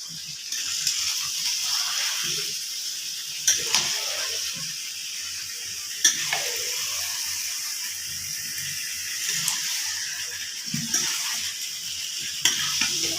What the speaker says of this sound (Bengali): এবার আমি মাংসগুলো নাড়াচাড়া করে